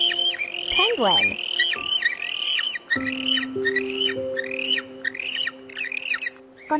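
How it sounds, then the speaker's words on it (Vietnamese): Penguin squawking in repeated harsh, rising-and-falling calls, loud and close, with a steady whistle-like tone running underneath through much of it. "Chim cánh cụt."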